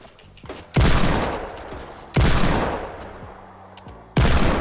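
Desert Eagle fire in the Fortnite video game: three loud, heavy gunshots spaced over a few seconds, each with a long echoing decay, against faint background noise.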